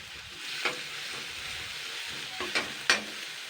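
Garlic fries with onions in a pan, a quiet continuous sizzle broken by a few sharp scrapes of a spoon stirring through the mixture.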